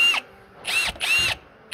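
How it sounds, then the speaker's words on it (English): A Ridgid hammer drill, a light compact model, whirs in two loud bursts of about half a second each, with a brief start at the end and quiet gaps between. "Very light, actually, for a hammer drill."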